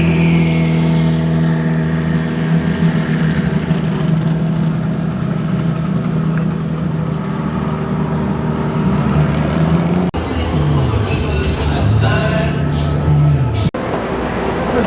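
Porsche race cars roll out for hot laps at Sonoma, engines idling and revving close by in a loud steady rumble, with a pitch shift as one pulls past near the end.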